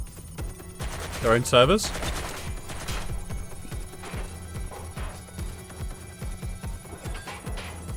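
Sporadic gunfire crackles through a Watch Dogs Legion street scene, short repeated shots in a loose rhythm at moderate distance, with a brief spoken voice near the start.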